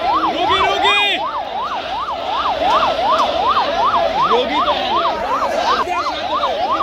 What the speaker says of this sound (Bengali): একটি অ্যাম্বুলেন্স কিন্তু আটকিয়ে গিয়েছে এই মুহূর্তে